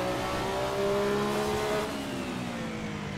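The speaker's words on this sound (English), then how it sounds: "Here's it bounces off the rev limiter." A Porsche 962 race car in Assetto Corsa holds a loud, steady engine drone with harmonic tones shifting in pitch, near and constant, with no speech.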